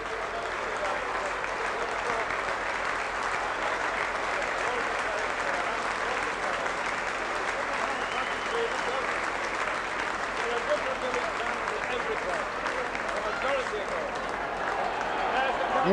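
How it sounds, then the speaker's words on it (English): Good-natured crowd applause at a Lancashire Cup rugby league final, Wigan versus Warrington, as the losers receive their medals: a steady, dense wash of clapping from a large stadium crowd, sustained and fairly distant, with no break throughout. "Good-natured applause."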